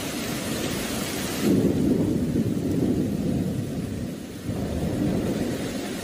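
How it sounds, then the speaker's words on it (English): Violent thunderstorm over Sicily, with steady heavy rain and a deep rolling rumble of thunder that swells midway and fades, loud and close, with no voices. "A sudden and violent storm hit Sicily, leaving flooded streets and damaged houses"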